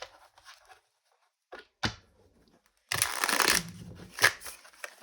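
Tarot cards riffle-shuffled up close in a long, dense burst of papery rustling and flicking, preceded by a few soft handling sounds and short slaps.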